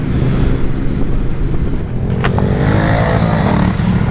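A Vespa 125 scooter and motorcycles, among them a Triumph Street Twin, pull away together on a country byway, a steady loud engine drone with wind buffeting, one brief sharp rise partway through.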